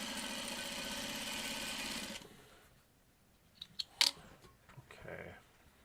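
A sewing machine stitching 2.5-inch fabric squares runs in a steady, fairly close whir for about two seconds, then stops, followed by quiet and a few sharp clicks and handling noises.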